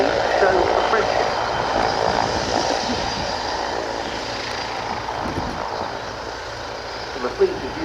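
A Boeing B-52 bomber flies at the RIAT airshow, its engines a broad, steady roar that fills the air throughout, with a voice talking over it.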